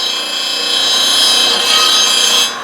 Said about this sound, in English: This is A7274, our stock number, Apex 16-inch disc sander.